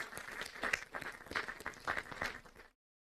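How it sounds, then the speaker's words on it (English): An audience at a Veterans Day tribute ceremony gives a fairly quiet round of applause, steady clapping with a few louder hand claps, then it cuts off abruptly into silence. "let's give her another round of applause."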